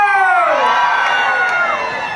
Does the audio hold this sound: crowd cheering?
yes